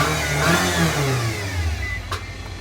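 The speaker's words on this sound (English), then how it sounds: "That transmission is whining like a motherfucker." A Nissan car with 175,000 miles runs close by, its engine note steady with a rising whine from a worn transmission, ending in a brief sharp click.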